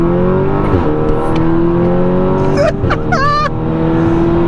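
An Audi S3 with an automatic gearbox, tuned to about 400 bhp, drones steadily as it accelerates, heard loudly from inside the car, with brief voices and a whoop partway through.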